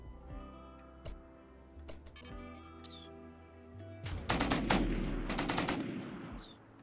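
Gunfire and EMP shots crack out in a Rimworld battle, first as scattered single shots and then as a dense rapid volley, with no talking over them.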